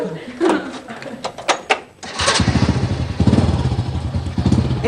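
An ojek motorcycle engine idles and revs with a steady throbbing putter in the second half, close and loud, after clattering thumps, with people talking over it.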